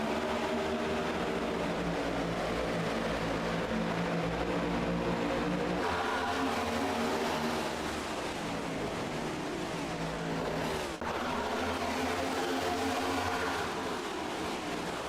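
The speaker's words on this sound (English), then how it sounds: "some of the best sounds in all of motorsports are when you hear those flybys of all the cars going by" Race cars sweep past on the oval at Kansas during a Cup Challenge race, a steady loud roar of engines blending into one continuous wash, with a sharp passing whoosh near the eleven-second mark.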